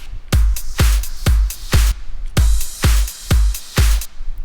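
A punchy electronic clap with a deep kick underneath, repeating in a steady even rhythm, eight hits in a row, loud and dry with no voices.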